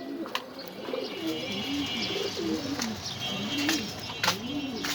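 Budapest Hungarian breed pigeons coo in repeated soft, throaty phrases close by, with occasional faint chirps and light rustling behind them.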